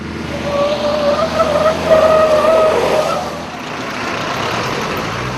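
An Ambassador car skids on an Indian road, its tires giving a drawn-out squeal over a rumbling engine and road noise, then fading into a steady motor drone.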